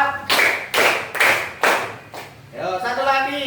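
Four sharp hand claps land at a steady counted pace, loud and close, and then a voice begins speaking.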